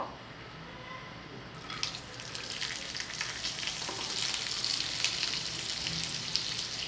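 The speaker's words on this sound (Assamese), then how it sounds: "এতিয়া তাতে কাটি লোৱা পাচলিখিনি দি দিব।" Chopped vegetables hit a hot pan of oil with cumin seeds for homemade chowmein, setting off a loud hissing sizzle that starts suddenly and swells into a steady fry, with no voices.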